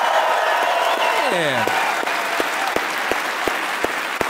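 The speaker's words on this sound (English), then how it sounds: "give a round of applause to your campus police here" A crowd at the University of Michigan claps and cheers for campus police, a dense burst of applause under a loud voice, then a few sharp isolated taps as the clapping thins out.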